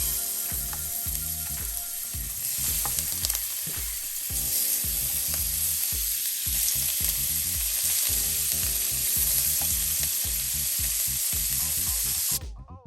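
Shrimp frying in a skillet in andouille sausage drippings, a steady loud sizzle with clinks and scrapes of stirring close by, heard alone.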